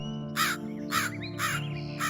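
A crow caws four times at a steady rhythm, each call harsh and fairly close, over a low humming background.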